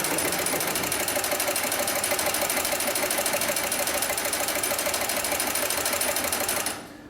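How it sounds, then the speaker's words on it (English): An extra heavy-duty industrial sewing machine stitching tie-down straps, a steady rapid mechanical chatter running continuously at close range before cutting off at the end. "And now we'll sew forward again."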